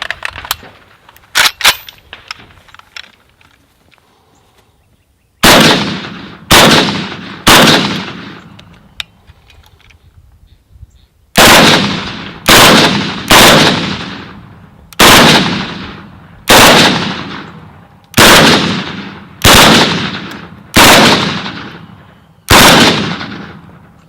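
A short-barrelled AK rifle chambered in 5.45 fires about a dozen loud, sharp single shots at steady intervals after a few fainter distant pops, each blast ringing out briefly.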